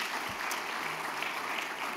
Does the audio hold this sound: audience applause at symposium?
yes